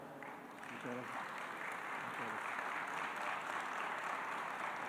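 An audience applauds a lecturer at a keynote conference, steady clapping from a crowd that swells after a brief opening voice and continues evenly throughout.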